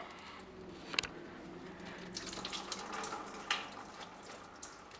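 Coolant drains from a Volvo 240 water pump into a catch container, a faint steady trickle and splash with occasional drips, quiet and close with no talking.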